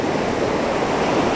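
Ocean waves wash in a steady, loud, dense roar of surf with no breaks, heard up close and with no voices over it.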